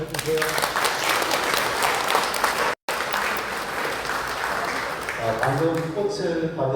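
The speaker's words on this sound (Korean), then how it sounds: "여러분 박수 한번 쳐주세요" Audience clapping in a lecture hall during a humanities talk as flowers are presented, a continuous broad wash of applause with a brief dropout midway and some voices faintly underneath.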